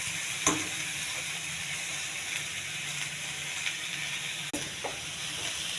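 Steamed broad beans hiss and sizzle in hot tempering oil, a steady, close frying wash with a sharp clatter or two of stirring utensils and no talking.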